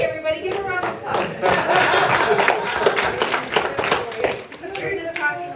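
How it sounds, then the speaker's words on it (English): An audience claps and applauds to welcome a man named Charlie at a New Year gathering, with a dense patter of hand claps across the clip, some chuckling, and voices talking underneath. "Give him a round of applause."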